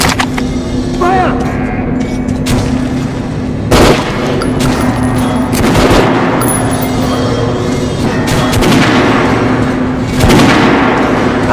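In the Metro 2033 video game, gunshots crack and thump in bursts over busy game audio, with a voice talking through much of the clip.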